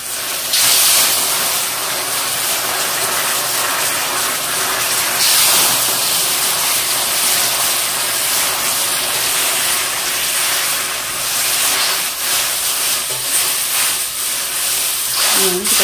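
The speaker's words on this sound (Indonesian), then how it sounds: "Ini udah, berarti udah panas betul wajannya. Tambahkan ya airnya." Water poured into a very hot, uncoated iron wok hisses and steams loudly and continuously, a dense broad roar with a brief bubbling flutter near the end, while someone talks over it.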